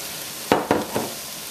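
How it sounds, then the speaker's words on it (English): String beans drop into a pot of Caribbean stew chicken, giving three quick sizzling bursts as they hit the hot pot, each fading into a soft hiss, close and fairly loud against a quiet background. "What I'm going to do is add the string beans directly to the pot."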